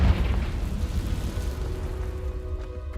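Confringo fire spell blast in Hogwarts Legacy, a deep booming explosion that hits loud at once and then rumbles and fades over a few seconds, with no talk.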